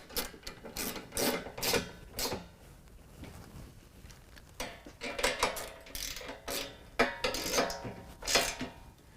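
A 13 mm wrench tightens carriage bolts on a running board bracket of a Ram 1500, giving irregular bursts of close metallic ratcheting and clinking separated by short pauses.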